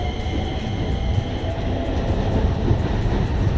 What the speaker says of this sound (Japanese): これ多分ねこの間京急本線をね走行していた列車ですよ。